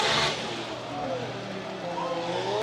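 Drift cars at a competition, a Toyota 86 among them, whine and rev loudly through a slide while a commentator talks over them.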